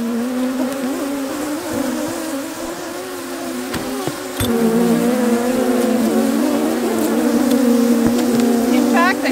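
Honeybees swarm around a nuc being opened during spring hive work, producing a loud, dense, continuous buzz with shifting pitch as individual bees pass close by.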